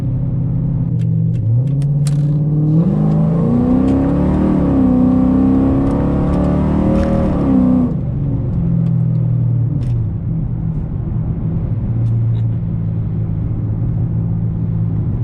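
A Hemi 5.7 V8 fitted with a Texas Speed Stage 3 cam growls loudly, rising through a few seconds of acceleration before settling back into a deep, steady rumble heard from inside the car.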